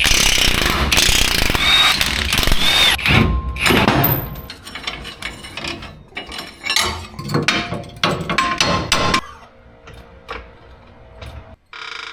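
U-bolt nuts being taken off a Chevrolet Silverado axle, with loud, close bursts of rapid mechanical ratcheting and clicking, irregular and stop-start, with metallic knocks in between.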